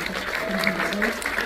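Applause from an audience at a film screening event in a cinema, steady dense clapping lasting throughout at moderate level, with some voices mixed in.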